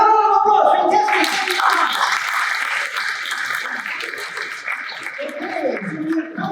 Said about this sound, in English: Another round of applause, fantastic.